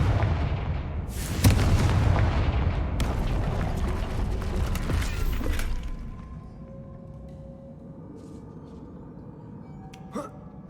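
Confringo fire spell explosions in the Hogwarts Legacy video game: a loud burst of booming blasts with crackling debris for several seconds, dying down to a quieter rumble, then one brief sharp hit near the end.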